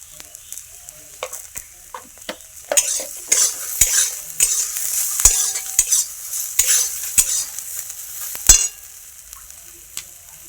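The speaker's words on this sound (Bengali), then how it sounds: "ভাজা ভাজা হয়ে গেছে, হলুদ দিয়ে দেবো।" Spices fry in a pan as turmeric goes in, giving a continuous sizzle broken by repeated sharp scrapes and clicks of a spatula stirring against the metal, with no talk.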